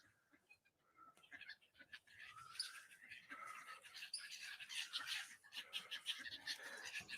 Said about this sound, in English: I just decided to come down here for a little walk because I could hear the birds